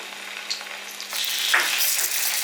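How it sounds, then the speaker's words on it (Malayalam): Mackerel pieces fry in hot oil for a Kerala fish curry, a soft sizzle that swells into a dense, loud crackle partway through, with no voices. "അപ്പം നമുക്ക് ഈ മീൻ ഓരോന്നായിട്ട് ഇട്ട് കൊടുത്ത് നമ്മൾ ഒത്തിരി അങ്ങ് വറക്കുന്നില്ല, ഒരു മീഡിയം രീതിയിൽ വറുത്തെടുത്താൽ മതി"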